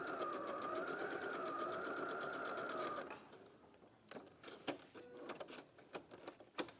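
A sewing machine stitches straight down fabric with a steady fast whirring hum for about three seconds, then stops, followed by scattered clicks and handling noises.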